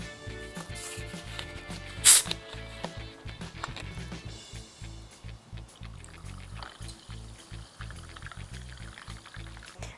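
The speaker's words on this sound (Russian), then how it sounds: "И заливаем минеральной водой." Mineral water is poured over ice, syrup and freshly squeezed juice to make a light summer drink. The pour runs as a soft, steady trickle close by for several seconds, with one brighter clink early on.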